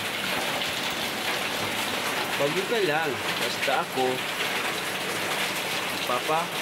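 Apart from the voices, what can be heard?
heavy rain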